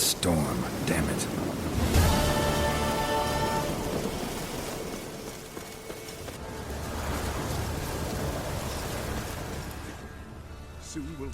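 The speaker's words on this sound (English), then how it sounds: "A storm, damn it." A thunderstorm brings steady heavy rain, with a loud crack of thunder near the start and a long rolling rumble underneath. Voices and other sounds briefly rise over the storm.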